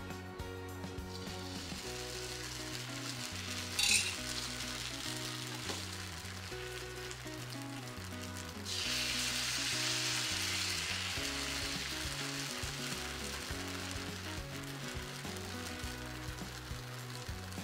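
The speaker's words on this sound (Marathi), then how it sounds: "आणि हे जे पीठ आहे हे व्यवस्थित तव्याच्या बाजूने सोडायला सुरुवात करायची" Rice-flour ghavane batter for a fasting meal sizzles on an oiled griddle. A steady frying hiss swells louder midway as more batter spreads across the hot surface, with music playing underneath throughout.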